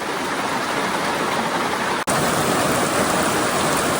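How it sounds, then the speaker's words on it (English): Steady, dense rain pours at a campsite, a broad close hiss with no other sounds and a brief dropout midway. "As soon as the rain stops, I'll go run to my tent."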